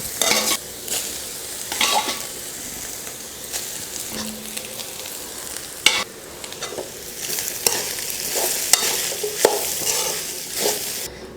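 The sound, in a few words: stirring rice with cooked vegetables in a pan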